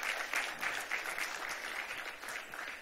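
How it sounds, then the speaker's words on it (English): A gala audience at a museum event in New York applauds, a room of many hands clapping in a steady, moderately loud patter with a few rhythmic swells. "Yeah, you can applaud."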